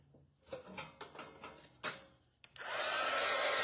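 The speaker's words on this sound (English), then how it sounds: "Let me just blow dry this a little bit" A hair dryer blowing on a cardboard basket starts up after a few knocks and handling clatters, then roars steadily and loudly at close range through the final second.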